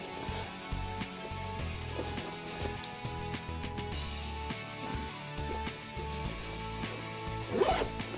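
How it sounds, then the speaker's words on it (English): Zipper on a pocket of a Kate Spade Briar Lane quilted colorblock handbag, faint close scraping over a low steady hum, with no talking. "It has a zipper pocket here."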